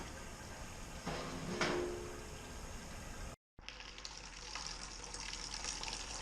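Beer wort pours into a fermenter during a home brew of a lime beer, a continuous splashing, gushing flow that swells midway, cuts out briefly, then resumes as a brighter, hissier stream.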